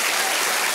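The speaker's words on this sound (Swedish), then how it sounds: "Kör en rungande applåd." A live audience at a political forum breaks into dense, sustained applause, many hands clapping together in a steady roar that fills the short moment without pause.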